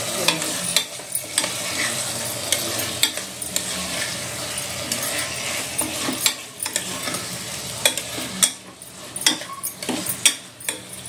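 Chicken stirred into prepared biryani masala in a pot, a loud sizzle with frequent rhythmic scraping and clanking of a ladle against the pot, close by.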